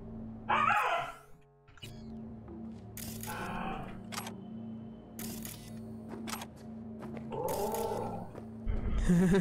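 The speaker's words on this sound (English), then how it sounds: "Huskies are very vocal dogs." A husky in the Cyberpunk 2077 game gives several separate barks and growly yelps, spaced across a quiet background hum with brief clicks between them.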